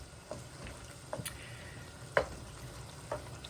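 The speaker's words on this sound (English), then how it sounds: "So this sauce is going to be simmered uncovered for 10 minutes." Sauce for a stuffed pepper casserole simmers uncovered in a pan, giving a faint, steady sizzle with a few soft clicks and light pops scattered through.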